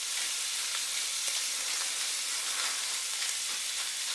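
Chicken frying in a pan for red chile colorado, a steady close hiss and sizzle of hot oil with faint crackles throughout, no talking.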